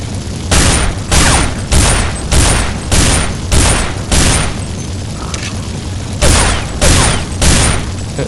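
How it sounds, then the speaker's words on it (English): Bursts of video game gunfire from an NPC laying down suppressing fire, in Heart of Evil: about ten loud, evenly spaced booming volleys, each roughly half a second long, close and dominant with no voices. "Laying down suppressing fire, sir."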